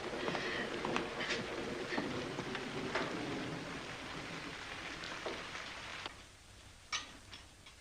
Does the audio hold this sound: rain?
yes